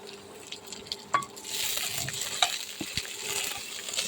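Chopped onion and tomato drop into a hot pan of oil and start frying, a few clinks and taps followed by a steady, soft sizzle that swells and holds under scattered stirring knocks.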